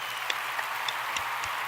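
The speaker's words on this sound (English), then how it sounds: "let's give a hand clap for all of our audience that's joining us tonight" Light clapping from a TV studio audience, sparse and thin with a few distinct claps over a low background hum, at moderate distance and without talking.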